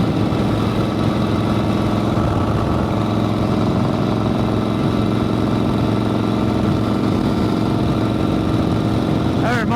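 Panhead-era Harley motorcycle engine running steadily at close range throughout a ride, a continuous loud low rumble with no break and no talk over it.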